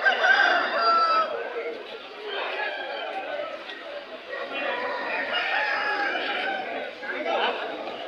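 At the historic hen market in Akkirampura, roosters crow among clucking fowl beneath a continuous hum of crowd chatter. Voices talk over the birds throughout.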